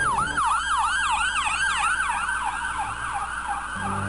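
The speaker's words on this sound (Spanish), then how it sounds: "El sonido de esta ambulancia fue en los minutos después de los ataques, el único indicio de que algo había ocurrido" An ambulance siren wails in rapid repeating up-and-down sweeps on a New York street in the minutes after the 9/11 attacks, loud and close and steady, with faint traffic rumble beneath.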